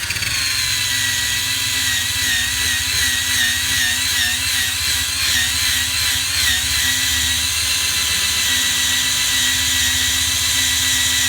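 A 3M eraser wheel spun by a power tool strips decals from a 2007 GMC Sierra pickup truck. It gives a loud, continuous high-pitched whine with a steady grinding hum underneath, close up and with no talking.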